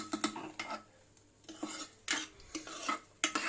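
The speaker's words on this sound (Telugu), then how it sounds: "ఈ పోపుని మనం కూడా ముందుగా రెడీ చేసుకున్న పప్పులోకి అయితే వేసేసుకొని మంచిగా మిక్స్ చేసేసుకుందాం" A spoon scrapes and clinks against a metal pot in uneven strokes as tempering is stirred into cooked dal, with a faint sizzle underneath, close and fairly quiet.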